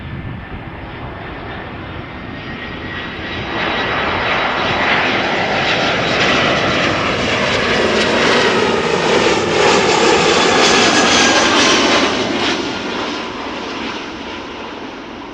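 An aircraft takes off at Amsterdam Schiphol, jet engines swelling into a loud, broad roar that holds steady for several seconds before easing slightly, close and unbroken.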